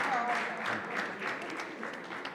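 Audience applause at a panel session, a dense steady patter of many hands clapping throughout, with a voice or two calling out over it near the start.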